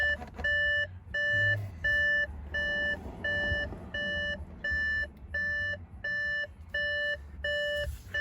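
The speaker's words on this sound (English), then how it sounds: "annoying beep" Repeating electronic warning chime from an Audi A4 during an oil level check: about a dozen evenly spaced bright beeps, each roughly half a second with short gaps, steady and fairly loud over a low engine-like rumble, no talking.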